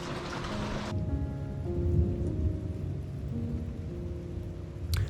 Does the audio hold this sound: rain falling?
yes